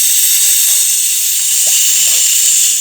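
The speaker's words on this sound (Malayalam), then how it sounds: "ഒരു 3-4 വിസിലടിച്ച് വേവണം" Steady, loud hiss of steam from a pressure cooker cooking beef for a spicy beef roast, a continuous bright whoosh filling the clip with a few faint clicks beneath.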